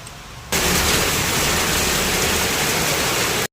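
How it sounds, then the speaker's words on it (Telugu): Rain pours down steadily during a roadside stop, a dense broadband hiss that switches on abruptly and holds loud and constant, with no voices. "వర్షం పడుతుంది"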